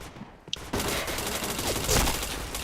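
Gunfire in the shooting game Point Blank bursts out as a loud, continuous rattle of rapid shots up close, after a short quieter lead-in with a single sharp crack.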